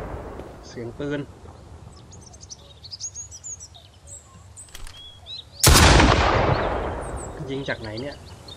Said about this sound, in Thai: เสียงปืน